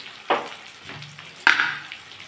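Turmeric, cumin and chili powder with salt fry in hot oil for a parshe fish curry with capsicum and potato, marked by two sharp spoon-scraping clatters over a faint, low sizzle.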